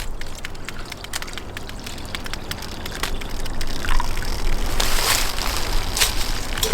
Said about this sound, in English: Go ahead and add some water back to our bag.